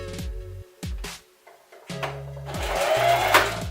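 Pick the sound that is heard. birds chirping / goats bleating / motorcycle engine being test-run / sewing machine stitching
sewing machine stitching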